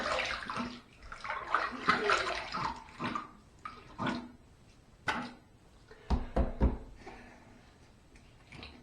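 Razor rinsed under running water mid-shave, in uneven bursts of splashing and flowing water with short knocks and taps in between, close and fairly quiet.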